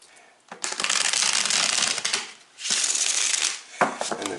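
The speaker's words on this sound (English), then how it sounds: "let's shuffle this one more time" Tarot cards riffle and shuffle in two long bursts, close and crisp, followed by a short tap of the deck.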